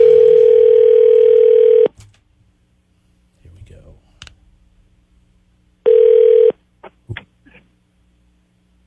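A radio station call-in line gives a steady telephone dial tone for about two seconds, then scattered dialing clicks and a second short tone burst, followed by more clicks and a brief spoken remark.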